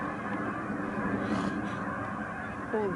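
A large flock of geese honks continuously on a Manitoba waterfowl hunt, a dense, distant chorus of overlapping calls forming a steady wash of sound, with a few clearer honks near the end and no talk.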